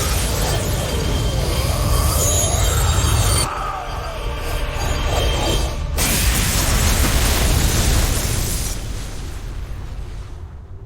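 A StarCraft 2 cutscene explosion: a loud, sustained rumbling blast with dense, crackling bursts. It drops to a quieter stretch, then swells again into a second roaring surge that gradually fades.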